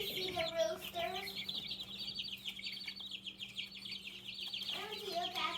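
Two roosters in a backyard coop vocalize in short bursts of clucking at the start and end, close to the recorder, with low steady hum between.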